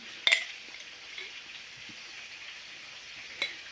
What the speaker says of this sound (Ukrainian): Обжарюємо фрикаделечки з двох сторін.